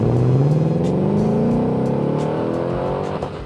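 A Ford Mustang engine revs hard on launch control, a loud close roar holding high revs with a falling and rising pitch and no one talking.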